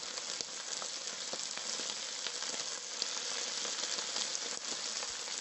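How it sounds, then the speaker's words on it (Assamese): Silkworm pupae fry in a pan with a little Kashmiri chili powder, giving a steady, even sizzling hiss that runs alone throughout with faint scattered pops. "এতিয়া আৰু অলপ সময় ভাজিম যেতিয়া এটা দুটা ফুটিব জানিব আমাৰ ডিশ খাব কাৰণে ৰেডি হৈছে"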